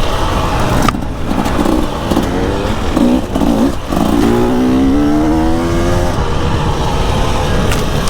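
A 2024 KTM 300 EXC dirt bike engine running up close, loud and rough, with the two-stroke rising in pitch through a rev and acceleration amid wind buffeting and a few brief dropouts.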